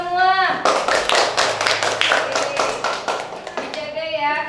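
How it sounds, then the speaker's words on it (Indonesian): A group of children claps in a classroom, a dense burst of applause lasting about three seconds, with a voice speaking just before and after. "Tepuk tangan untuk kita semua."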